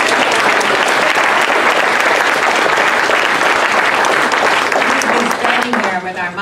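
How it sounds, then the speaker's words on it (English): Loud, sustained applause from a large audience at a convention Q&A panel, dense clapping throughout that begins to thin out near the end. "we should applaud that gentleman"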